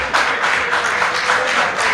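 An audience applauds continuously at a committee leadership-training meeting, a dense, steady wash of many hands clapping at moderate loudness with no break, and no voices over it.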